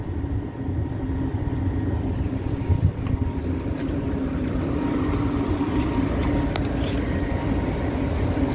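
A walk-in cooler's compressor and condenser fan motor run with a steady, loud mechanical hum and drone, holding an even level throughout without any talk.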